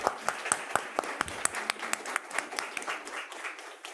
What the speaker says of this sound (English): let us give a round of applause in introducing Dr. Yaron Brook.